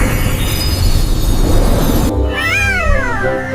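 A cat meows in a rising and falling wail, loud and close, after a stretch of steady rumbling noise that cuts off abruptly.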